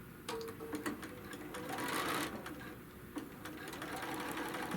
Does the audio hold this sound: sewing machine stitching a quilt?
yes